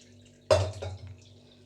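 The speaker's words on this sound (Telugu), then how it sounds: "ఇప్పుడు కొద్దిగా చల్లనీళ్ళు పోసుకోవాలి, లేకపోతే ఇంకా మెత్తగా అయిపోతుంది" Cold water splashes over hot cooked noodles in a short, close burst that quickly trails off into faint drips, with no talking.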